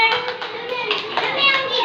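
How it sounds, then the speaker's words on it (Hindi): Children clap their hands in quick, uneven bursts while young voices chatter and call out over the clapping. "ताली बजाओ इसके लिए।"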